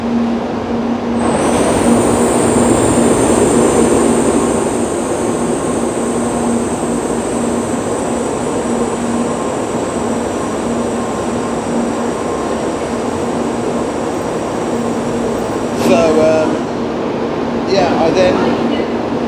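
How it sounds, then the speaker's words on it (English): A bullet train rushes past nearby in Japan with a loud, sustained rumble and whine, then fades, followed by a couple of brief rattling clatters. "A bullet train, not my one, I want the next one."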